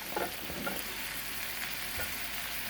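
Small shrimp sizzle on a hibachi grill, a steady broadband crackle with a few sharper spatula scrapes and taps, close and fairly loud with no talking.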